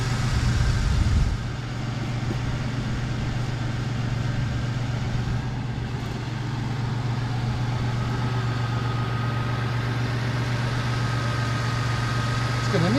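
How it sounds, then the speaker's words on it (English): A 2000 Toyota Tacoma 4x4 pulled from a barn idles with a steady low engine drone, and a thin power steering pump whine sits on top, close and continuous throughout. "Power steering pump is singing a pretty song."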